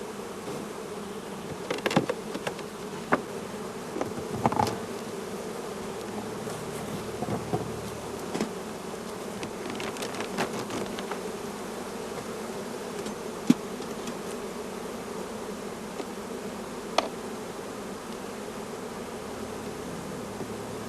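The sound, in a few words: honey bees buzzing on brood frames in hive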